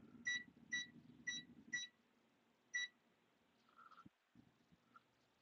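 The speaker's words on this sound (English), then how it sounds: "I'm gonna go ahead and set that timer." A kitchen timer beeps four times in quick succession and once more after a pause, bright electronic bleeps set for potatoes roasting in the oven, over a low room hum and light kitchen clatter.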